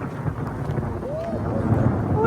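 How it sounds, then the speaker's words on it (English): Low rumbling thunder during a summer rain in Paris, a steady deep roll with wind buffeting the microphone and building slightly toward the end. "Can you hear that thunder?"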